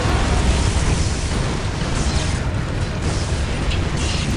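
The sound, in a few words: orbital bombardment explosions in video game Dawn of War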